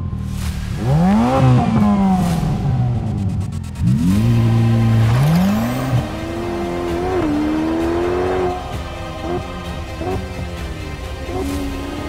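A Ferrari F8 Spider sports car accelerating hard on a mountain road, its engine loud and close, rising in pitch through the gears with sharp drops at each shift, then settling into a steadier drone.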